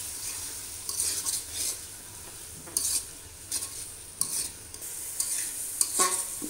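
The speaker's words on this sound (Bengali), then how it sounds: "এবার একটু জল দিয়ে দেবো, মশলাটা ভালো করে কষিয়ে নেব।" Turmeric and chili spice paste being sautéed with a splash of water for a village-style mutton curry with potato, a steady close sizzle broken by repeated scraping stirs of a spoon against the pan.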